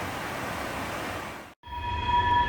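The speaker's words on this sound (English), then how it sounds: "You can hear that train in the background I was talking about." A train rumbles past steadily with a broad roar, then cuts out briefly before returning with a high metallic wheel whine over the rumble.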